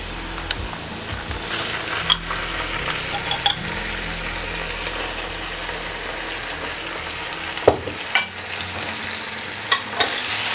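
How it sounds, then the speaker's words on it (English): Tomato paste sizzles and fries in a pot while a spoon stirs and scrapes through it, a steady close frying hiss broken by a few sharp knocks against the pot. "You can see I'll be frying for about 3 to 5 minutes"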